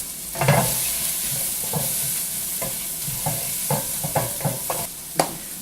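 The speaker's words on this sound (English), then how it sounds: "We're going to put our garlic in." Garlic and softened onions sizzle in a ceramic pan, with a steady frying hiss broken by repeated sharp clicks and scrapes of stirring.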